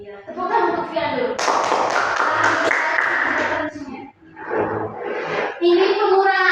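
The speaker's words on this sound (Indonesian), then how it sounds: "tepuk tangan untuk Fian dulu." Young first-grade pupils clap for a classmate in an elementary school maths lesson, a loud rhythmic burst of handclaps mixed with a teacher's voice and children's chatter before and after.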